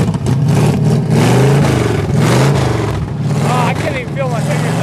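Jeep CJ5 engine idling roughly after a cold start on a cold day, rumbling loudly through its headers with surging revs, while people talk over it throughout.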